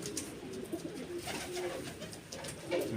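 Soft pigeon cooing and bird calls over a steady outdoor hiss, a few short chirps standing out near and far.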